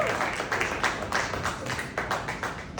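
A comedy club audience clapping steadily, a loose sustained patter of many hands in a small room, with no voices over it.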